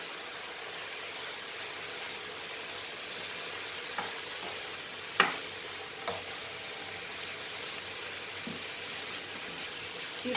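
Chicken being stirred with Everest coriander, cumin and turmeric powders in a hot pan for a methi chicken dish, a steady broadband sizzle with scattered scraping clicks from the spoon, one sharper knock midway, no voices.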